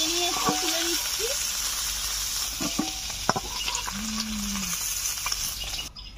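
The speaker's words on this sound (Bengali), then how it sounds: "লালচে করে বাটা মাছগুলোকে ভেজে নিয়েছি, তুলে নিচ্ছি" Bata fish frying in hot oil, a constant close sizzle with occasional clinks and scraping of utensils as the pieces are lifted out, a few brief tonal sounds near the start.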